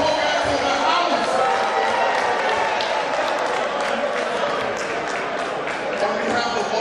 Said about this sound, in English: A round of applause for all our Wogans in the house.